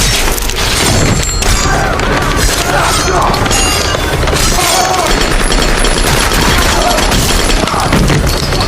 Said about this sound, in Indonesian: Dimitri melempar bom ke arah pembersih dan menembaknya